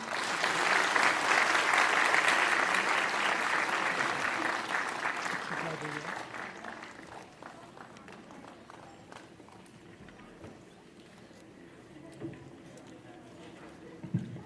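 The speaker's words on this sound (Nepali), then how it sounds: "हामीले ताली बजाएको पुगे जस्तो लाग्यो।" Applause from a crowd at a Christmas day festival where Nepal's President Bidhya Devi Bhandari attends. Loud, dense clapping fills the first several seconds, then gradually dies away into a quiet hall with a few stray sounds.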